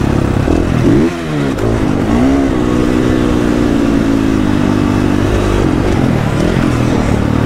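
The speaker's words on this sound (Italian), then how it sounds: "che gas che c'ha sta moto!" A 2020 KTM SX-F 450 motocross motorcycle roars loud and close at Ponzano di Fermo, its engine revving hard with rising and falling pitch sweeps and a continuous raspy exhaust.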